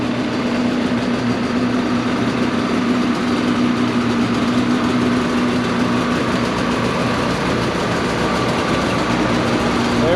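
Two 850 snowmobiles fitted with Bikeman stage 2 kits idle together, a loud, steady engine drone with a constant low hum and no change in pace throughout.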